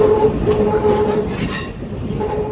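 A train rolls steadily along the rails with a loud, constant rumble and a faint squeal from the wheels, heard from the front of the train, with no voices.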